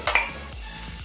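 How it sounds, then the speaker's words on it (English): Potatoes sizzling in hot bacon fat in a pan, with a couple of sharp utensil scrapes from stirring over a steady frying hiss. "Now we're gonna go ahead and add our potatoes."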